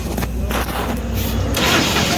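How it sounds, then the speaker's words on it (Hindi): A Mahindra Supro BS6 diesel, which had been having trouble starting, cranks and catches, the engine noise loud and close before settling into a steady run. "तो आप देख पा रहे हैं कि हमारी गाड़ी भी स्टार्ट हो चुकी है।"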